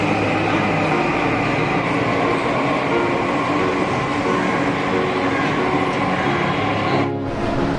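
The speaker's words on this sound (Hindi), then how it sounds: "ये मेट्रो भी आ गई है" A Delhi Metro train arriving at a station rumbles loudly and steadily alongside, its wheels and motors droning close by, then a brief dip in noise near the end.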